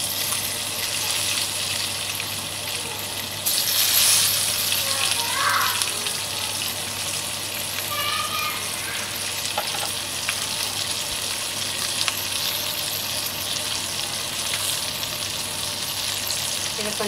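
Onions and green chillies fry in hot oil for egg biryani, a steady close sizzle running throughout with a brief louder burst of crackling near the start.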